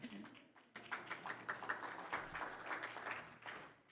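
Audience applause at a finance forum plenary keynote, a dense wash of clapping that starts abruptly after a brief quiet moment and holds steady, fairly faint and room-filling.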